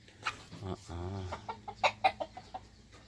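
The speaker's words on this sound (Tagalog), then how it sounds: "Kahit dito may manok." Chickens cluck in short, irregular bursts close by, with a few sharper squawks and a low background hum.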